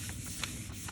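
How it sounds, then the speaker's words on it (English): Hand rubbing oil pastel onto a gel printing plate: short scuffing strokes in quick succession, close and fairly soft, with no talking. "Give it a good rub."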